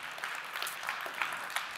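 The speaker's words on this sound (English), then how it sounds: "Can we give yourselves a round of applause?" A conference audience at a PostgreSQL talk gives itself a brief round of applause, quiet and somewhat distant, with a few sharper claps standing out.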